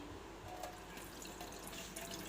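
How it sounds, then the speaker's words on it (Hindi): Soaked chickpeas being drained of their soaking water, a faint continuous splashing and trickling of water pouring out, steady throughout with no talk. "अब हम ये पानी ड्रेन कर देंगे"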